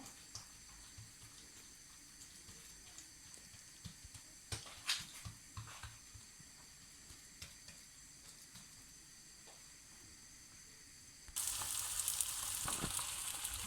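Msemmen flatbread with spinach and cheese cooks in a hot pan, giving a faint sizzle with scattered soft knocks and clicks, before a louder, brighter hiss of frying or running water takes over near the end.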